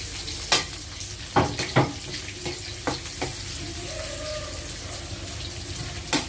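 Onion added to a hot pan of frying food, with a low steady sizzle under scattered sharp clinks and scrapes of stirring, plus a brief faint tone midway.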